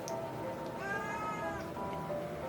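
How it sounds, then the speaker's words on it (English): An unhappy cat meows and yowls indoors, giving a drawn-out wavering cry with a couple of shorter calls around it, moderately close and heard without any talk. "the cat is screaming in the background"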